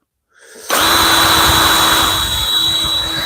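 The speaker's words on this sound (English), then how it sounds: "I can chuck it up in the drill" After a moment of silence, an electric drill spins up to a loud, steady high whine as a metal pin chucked in it is run through wood in a forging workshop.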